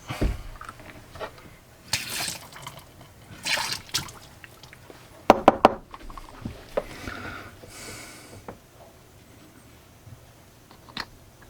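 Water splashing and dripping while dirt is rinsed out of a small threaded part, intermittent trickles and sloshes with a few sharp clatters midway, close but fairly quiet, no talking.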